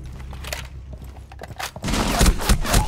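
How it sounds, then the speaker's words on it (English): Shotgun blast fired at point-blank range in Rainbow Six Siege on the Oregon map, a burst of loud gunfire crackling over quieter game noise, the heaviest shots landing in the last second. "I shot her like point blank with a shotgun."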